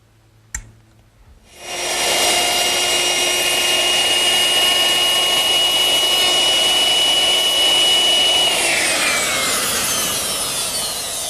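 A router fitted with a 1/2-inch radius bit rounds over the top edge of a wooden backsplash for a Shaker wash stand: a brief click, then the motor spins up into a loud, steady whine with cutting noise, pitch shifting slightly as it winds down near the end.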